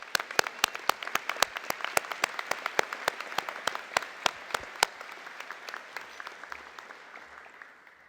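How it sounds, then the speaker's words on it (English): A commencement audience claps for faculty, staff and coaches: sharp individual claps ring out in a loose rhythm over a bed of applause, then the sharp claps stop and the crowd noise fades away. "Let's give these wonderful faculty, staff, and coaches a round of applause."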